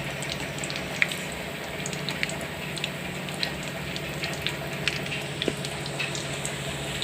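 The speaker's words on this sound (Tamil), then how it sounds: "இப்போ எண்ணெயில் இந்த சீஸ் பால் எண்ணெயில் பொரிக்கிறேங்க." A steady crackling sizzle of chicken cheese balls deep-frying in hot oil, with tiny pops scattered throughout and a low background hum.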